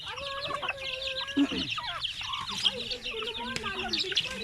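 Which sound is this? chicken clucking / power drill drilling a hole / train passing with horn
chicken clucking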